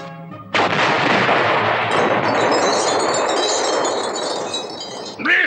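A cartoon grenade goes off during grenade practice, a sudden loud blast after a short quiet lead-in, followed by a long crackling roar of debris that fades and ends in a brief whistling tone.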